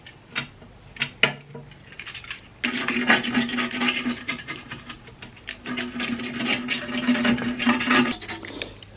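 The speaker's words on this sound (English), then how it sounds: "And I clean it as best as possible, the old silicone, so that the new silicone can" Steady, rasping scrapes of a blade removing old silicone from aquarium glass, loud and close, with a brief pause before a long continuous stretch of rhythmic scraping.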